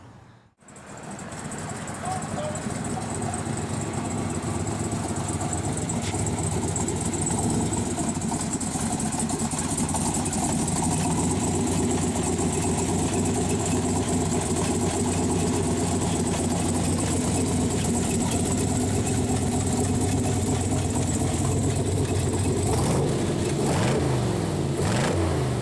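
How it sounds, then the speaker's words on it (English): A 1967 Chevrolet Corvette 427 Tri-Power convertible fires up and settles into a loud, steady idle right after startup, its low rumble constant and close from beginning to end. "I'm gonna go ahead and have them fire it up for you too so you can see what it sounds like"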